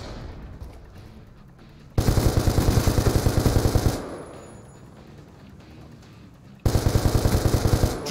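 Rapid automatic gunfire from a Call of Duty: Black Ops II multiplayer match on PC, two loud sustained bursts of fast shots separated by a quieter stretch of distant game ambience.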